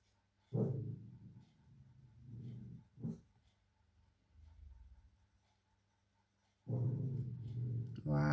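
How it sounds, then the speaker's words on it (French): A dog indoors lets out a few barks and short whimpering bursts, loud near the start, again briefly around three seconds, and in a closing cluster, with quiet stretches between. "pourquoi t'aboies?"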